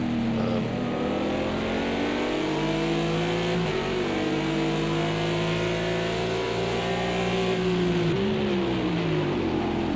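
A steady, loud Audi race car engine in a sim racing endurance event, holding a high drone with slight pitch dips as it shifts and lifts, continuous and close throughout.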